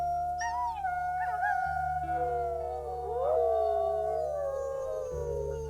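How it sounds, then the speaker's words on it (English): Wolves howling in the video game WolfQuest, several long rising and falling howls overlapping, loud and sustained over a low steady ambient hum. "I think maybe Pyrite and Bolt have the same howl."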